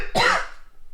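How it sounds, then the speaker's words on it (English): A single short, sharp cough bursts out close to the microphone, then trails off into quiet breathing. "Maybe if I talk a lot, it forces me to cough."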